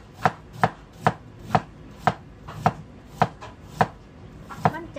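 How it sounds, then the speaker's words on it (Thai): Vegetables, including large shallots, being chopped with a knife on a board: about ten sharp, evenly spaced cuts in a steady rhythm, close and clear, with no talking. "มาหั่นผักก่อนนะคะหั่นผัก"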